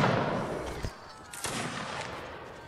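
Musket fire in a Napoleonic Wars line battle game: two sharp, separate reports ring out about half a second apart over a rumbling battlefield din, rather than one massed volley.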